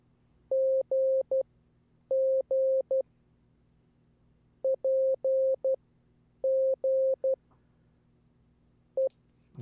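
Clean Morse code practice tones for beginners learning the letters P, S and G, sent as short groups of crisp beeps with pauses between them, clear and steady over a faint background hum.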